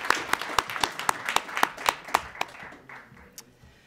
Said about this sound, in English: Let's give another round of applause for our speaker, Saeed Saba.